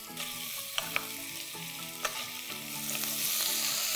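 Carrots sauté in ghee in a pressure cooker for gajar halwa, giving a steady close sizzle with a few sharp spatula clicks. Soft tonal music runs underneath, and the frying grows slightly louder toward the end.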